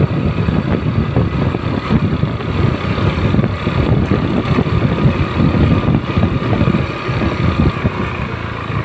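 A Honda Beat FI motorbike engine runs steadily at a low, even idle for several seconds, close and loud with no talk over it.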